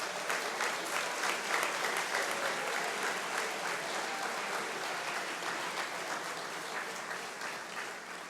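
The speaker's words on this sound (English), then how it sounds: "let's have a big round of applause for the graduating class of 2013" A convocation crowd on a college campus gives the graduating class of 2013 a big round of applause, dense steady clapping that fills the hall at full strength and eases only slightly toward the end.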